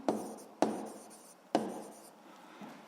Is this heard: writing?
yes